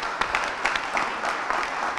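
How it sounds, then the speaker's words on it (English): An audience at a leadership conference gives a round of applause, steady many-handed clapping that continues through the brief moment. "let us just give a round of applause."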